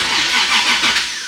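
A 2JZ-engined Toyota A90 Supra cranks and fires up close by, a dense, loud broadband roar that holds steady for about a second with no voices over it.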